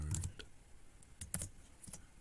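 Short bursts of keystrokes on a computer keyboard while entering a C++ hello world program, a few quick clusters of clicks spaced through a quiet room.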